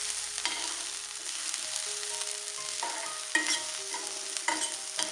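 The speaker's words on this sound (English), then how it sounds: "And let it fry for a minute." Green chili and garlic frying in a pan, a steady moderate sizzle with occasional scrapes and clinks from stirring, plus faint sustained tonal hums in the background.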